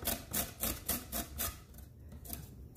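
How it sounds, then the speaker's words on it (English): A lime is zested by scraping its skin against a grater, with six quick rhythmic rasping strokes close up, then softer scratching as the fruit is turned, no voices. "we get to zest our lime. And all we're doing is scraping off the skin."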